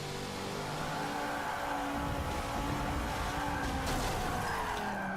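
A car in the Forza 7 racing game skids and crashes, with tire squeal and a loud engine roar running continuously throughout.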